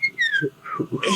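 A short burst of whistled notes, a few quick pitch slides, nearby and fairly clear.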